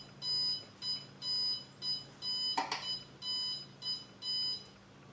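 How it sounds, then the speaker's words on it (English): Heat treating oven alarm beeps steadily at temperature during knifemaking with 1084 steel, a fast regular pattern of high electronic pulses, fairly faint, with one short clank partway through and no talk. "the oven is now up to temp. You can hear the alarm going off."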